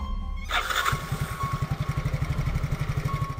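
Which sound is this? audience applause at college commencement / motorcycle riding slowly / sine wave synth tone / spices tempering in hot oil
motorcycle riding slowly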